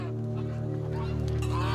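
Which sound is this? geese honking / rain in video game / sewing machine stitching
geese honking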